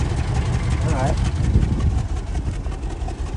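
A 1967 Lincoln engine idles steadily through a newly finished exhaust, a continuous low rumble that stays close and even throughout, with a voice talking over it.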